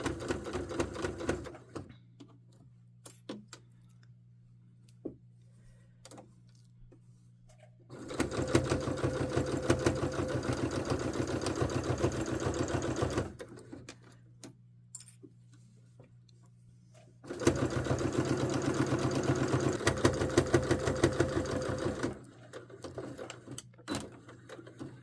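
A sewing machine stitches a lounge wear top in two sustained runs of steady mechanical whirring, separated by quiet pauses with a low hum and small handling clicks.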